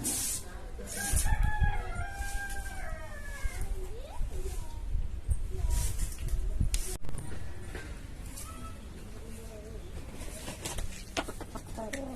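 A rooster crows amid a noisy farmyard, with other fowl clucking and people talking nearby; the crow rises and trails off in a long drawn-out call.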